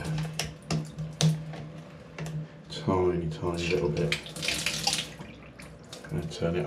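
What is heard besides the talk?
water running through new shower valve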